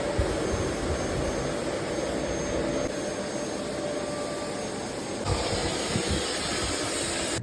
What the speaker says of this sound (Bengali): রাখার পরে ভ্যাকিউম দিয়ে এটাকে ভালো করে ক্লিন করে নেব